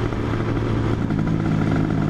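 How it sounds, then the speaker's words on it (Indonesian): A tuned Yamaha MX motorcycle with a stock exhaust idles and runs close by in a steady, throbbing engine drone with a slight clattery edge, holding level for a couple of seconds. "Tuh motornya MX-nya udah tune-upan juga ya"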